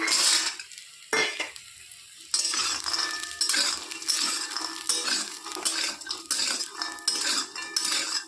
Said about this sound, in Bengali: তেল গরম হয়ে গেছে তেলের মধ্যে এখন ভেজে নেব ডালের বড়ি